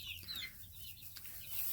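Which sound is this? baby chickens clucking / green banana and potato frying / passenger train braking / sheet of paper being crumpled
baby chickens clucking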